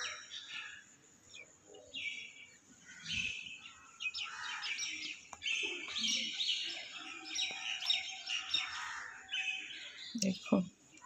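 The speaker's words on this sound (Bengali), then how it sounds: "শুধু পাখিরই কলরব শোনা যাচ্ছে, এটাই ভালো।" Early-morning birds chirping and calling, many scattered tweets and squawks at a moderate distance, fairly faint, with a quiet human voice in the background.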